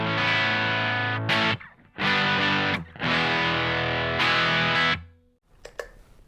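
Distorted electric guitar played through an amplifier in several loud sustained bursts, strummed chords ringing for about a second each, separated by short pauses, with a faint pick scrape at the end.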